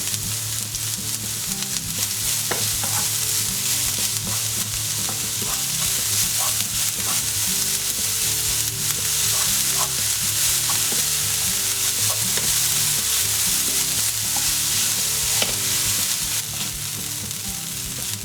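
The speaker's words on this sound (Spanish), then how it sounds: "Antes de que se empiecen a tostar incorporamos la cebolla picadita" Chopped onion frying in a pan for a vegan pumpkin pasta sauce, a continuous loud, crackling sizzle with occasional stirring scrapes, and no talk.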